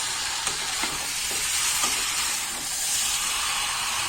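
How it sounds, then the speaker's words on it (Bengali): Country chicken being stirred and fried in a pan for curry, a steady loud sizzle broken by a few soft scraping stirs, close and continuous with no talk. "এইভাবে বারে বারে নেড়ে দিয়ে মাংসটা খুব ভালোভাবে কষিয়ে নিতে হবে"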